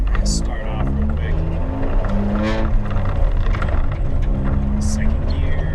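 Front-wheel-drive car engine revving and pulling away from a stop, steady harmonic drone rising through the gears, loud and close, with someone talking over it.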